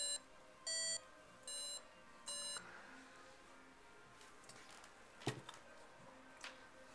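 Electronic beeps from a homemade flight computer: three evenly spaced short tones, then quieter scattered clicks and a brief sharp knock amid faint background hiss.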